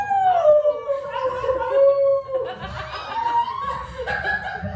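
A woman imitates a wolf howl with a long, wavering, rising-and-falling vocal cry, close and clear, with laughter and chuckles from others breaking in toward the end.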